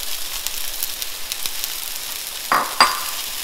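Mushrooms and onions fry in a pan with a steady close sizzle, joined by a couple of sharper spatters and scrapes as they are stirred.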